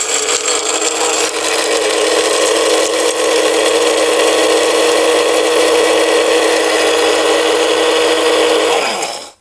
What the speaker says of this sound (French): On va maintenant tester le moulin pendant 30 secondes.